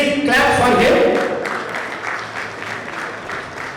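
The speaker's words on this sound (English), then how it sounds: "please clap for him" Applause from the audience at an alumni association convention in New Jersey, with a voice briefly speaking at the start before clapping rises and continues at moderate loudness, thinning toward the end.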